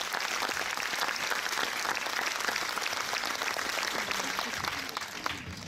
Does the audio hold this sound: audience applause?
yes